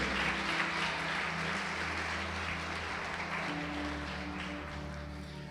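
A church congregation applauds to glorify Jesus during a Lord's Supper service, a steady wash of many hands clapping throughout, with a low sustained organ or keyboard tone underneath.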